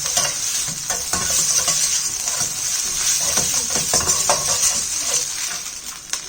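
Egg whites are stirred through a hot, sizzling pan for fried rice, with a steady loud crackle of frying and scattered scraping clicks of a utensil against the pan throughout.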